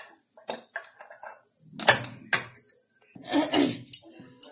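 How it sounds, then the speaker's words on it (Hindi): Spiced potato filling is tipped from a pan into a bowl, with a series of metallic clinks and scrapes and a cough partway through. "अब ये हो गया, इसको हम पलट लेंगे कटोरे में।"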